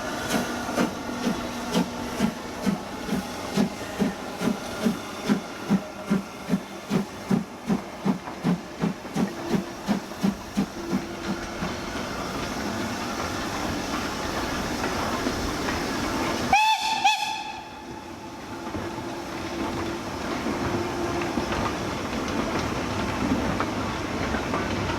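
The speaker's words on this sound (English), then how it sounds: "Sometimes, like today, the train was double-headed." A double-headed model steam train running on its track, rhythmic chuffing beats that gradually thin out, then a sharp whistle blast partway through, followed by a steady running rumble.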